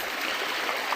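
River water streams steadily and close by, a continuous broadband rush with no voices, flowing through a channel lined with leaves and grassy banks.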